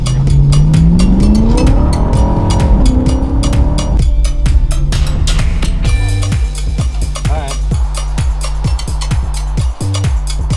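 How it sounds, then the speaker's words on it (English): A stock BMW E90 M3 engine revs loudly up close, climbing through rising pitch sweeps before cutting off abruptly and breaking into a rapid series of sharp downshift blips and throttle pops. "Oh, those downshifts."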